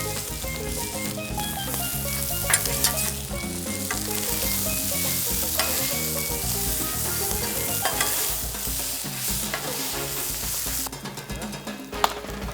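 Sliced steak and vegetables for Philly cheesesteak sizzle loudly in a hot pan as they are stirred together, a continuous crackling fry with scraping and clinking from the utensil, no talking.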